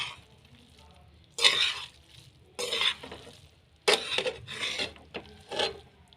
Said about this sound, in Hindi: और अब मैं इसको मिक्स कर दूंगी।